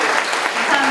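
Dense, steady applause from a lecture audience honoring a professor at the end of a security talk, a thick continuous patter of many hands with no pause.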